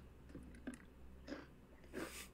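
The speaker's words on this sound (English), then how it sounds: "I'm eating chips and salsa. So forgive me if you hear me crunching." Faint close crunching of tortilla chips with salsa, three soft bites spaced about half a second apart over a quiet room hiss.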